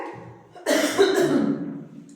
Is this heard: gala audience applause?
no